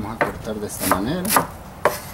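A knife chopping medium onions on a cutting board for chicken soup, a handful of crisp, separate thuds spaced irregularly, close and clear with no talking.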